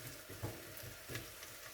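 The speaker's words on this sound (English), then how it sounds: "You can hear that rice coming up and frying" Rice frying in a pan for Spanish rice gives a soft, steady sizzle with faint crackles and a few stirring scrapes, heard close and quiet with no one speaking.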